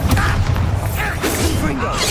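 A Bombarda blasting spell fires in the video game Hogwarts Legacy, a loud booming burst with rumbling low end, set within dense game action and effects rather than standing alone.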